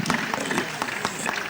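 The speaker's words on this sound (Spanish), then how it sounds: "Démosle un abrazo, un aplauso a don Felipe Pastrana" A crowd at a Sardo Negro heifer championship judging gives a brief burst of applause for don Felipe Pastrana, with scattered, uneven clapping.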